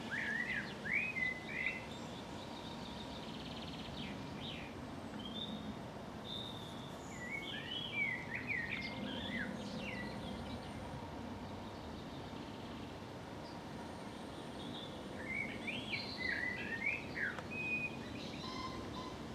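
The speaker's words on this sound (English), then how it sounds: "Blackbird song in the distance, accompanied by that pheasant." A blackbird sings in the distance in the open countryside, bursts of fluting phrases coming and going over a steady low rumble, with a pheasant nearby on a pastoral walk.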